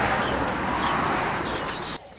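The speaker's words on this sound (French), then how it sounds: "un beau pigeon d'ornement" An ornamental pigeon, hand-reared, coos in a soft repeated rolling call at close range, with a few faint chirps from other birds nearby before the sound cuts off.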